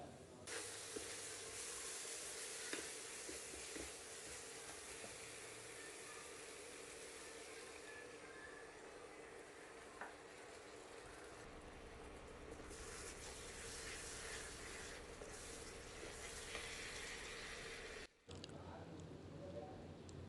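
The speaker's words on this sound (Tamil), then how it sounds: "இதை லேசாக எண்ணெயில் வதக்கிட்டு" Loud, steady sizzling of spices and tamarind frying in hot oil for a kuzhambu, a constant hiss that shifts tone partway through, with a voice speaking in Tamil over it.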